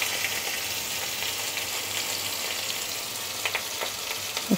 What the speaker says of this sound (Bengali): এর মধ্যে আমি টমেটোটা দিয়ে দেব।